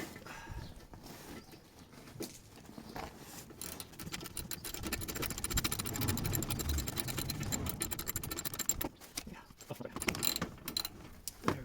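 A hand ratchet cranks loose a corroded bolt during a service on an Abarth 595, its pawl clicking in rapid, steady runs with brief pauses between strokes, close and alone.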